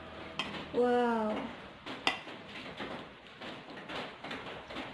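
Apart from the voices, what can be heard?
stirring ketoprak with utensils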